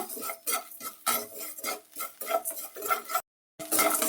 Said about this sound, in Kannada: ಮೊದಲಿಗೆ ಒಂದು ಬಾಣಲಿ ತಗೊಂಡು ಉಪ್ಪು ಹುರ್ಕೊಳ್ತೀನಿ ಉಪ್ಪು ಚೆನ್ನಾಗಿ ಹುರ್ಕೊಳ್ಬೇಕು